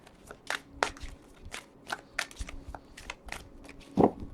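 Cards being shuffled up close: a series of quick, crisp riffling snaps and flicks in uneven bursts, with a louder rustle near the end.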